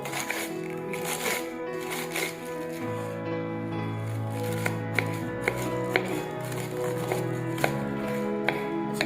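A knife chops cabbage on a board in quick, crisp strikes, close and clear, with an irregular rhythm of repeated cuts.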